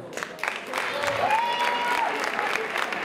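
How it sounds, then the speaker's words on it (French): Audience at a high school rugby tournament event applauding, steady crowd clapping that builds after a quieter start, with a sustained voice or whistle-like tone rising over it. "Et je vous demande de vous applaudir."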